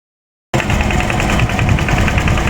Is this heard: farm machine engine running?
yes